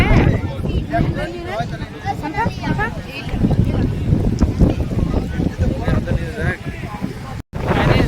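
Strong wind gusting over a rough, churning sea, roaring and buffeting the microphone, with people talking over it throughout.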